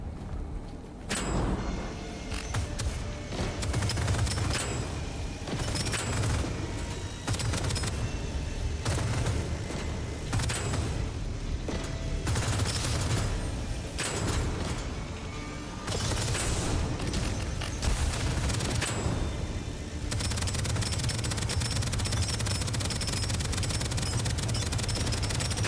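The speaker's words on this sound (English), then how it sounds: "technically I have an electric minigun" Electric minigun firing in the space roguelite shooter Deadzone: Rogue, with repeated loud bursts of rapid gunfire and booming impacts that start and stop across the stretch, dense and close over a constant low rumble.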